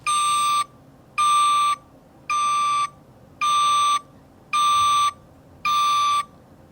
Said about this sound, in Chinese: 这个是车子在倒退的倒退声音